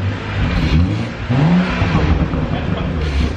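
A BMW 435i with a custom Valvetronic axle-back exhaust revs hard, its engine note rising and falling in loud, close surges with a deep rumble underneath and a brief drop before climbing again.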